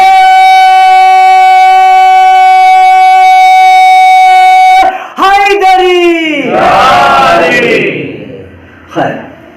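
A crowd at a Muharram majlis roars a slogan in unison after a long sustained vocal tone. The chant comes as a couple of loud, ragged shouted bursts that swell and then fade, ending with one last short cry.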